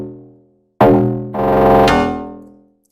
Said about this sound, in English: So I added another sound from Log Drum VST.